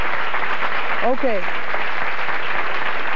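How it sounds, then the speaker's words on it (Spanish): Studio audience on a Spanish-language television talk show breaks into steady, broadband applause that fills the room, with a brief spoken word over it. "Un aplauso para este joven tan valiente."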